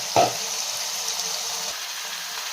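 Masala-marinated chicken hits a hot pan with tomatoes, a sharp burst of sizzling that settles into a steady frying hiss, close and fairly loud with no talking.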